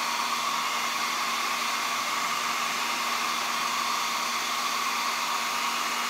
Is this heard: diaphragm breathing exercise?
no